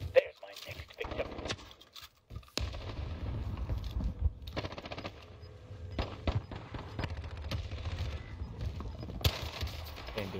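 Scattered pistol shots and other gunfire pop through a busy video game battle, with sharp bursts at irregular intervals over low rumbling game noise, some shots close and others distant.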